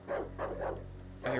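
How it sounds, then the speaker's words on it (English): Barking from a dog in the horror video game Darkwood, three loud bursts in quick succession at close range, with a low droning ambience filling the gaps. "I hear another dog."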